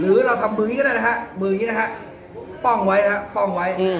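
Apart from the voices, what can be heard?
No everyday noise stands out behind the speech.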